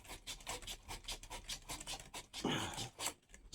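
Metal polished by hand with 320-grit wet/dry sandpaper on a 2002 Harley-Davidson Dyna Super Glide, a quiet, close rhythmic rasping scrub in short strokes.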